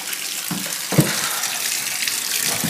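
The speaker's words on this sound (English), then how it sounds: "It's running water." Steady rushing water pours from a shower continuously with a hissing, splashing texture, and the flow stays even and fairly close throughout.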